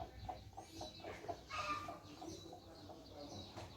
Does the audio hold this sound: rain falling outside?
no